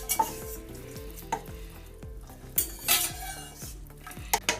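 Pasta and tuna are stirred together in a pot, with a spoon knocking and scraping against the metal in irregular clinks over a low background sizzle.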